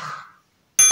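Notification bell sound effect: a short bright ding that fades out, a moment of silence, then a loud metallic clang that rings on to the end.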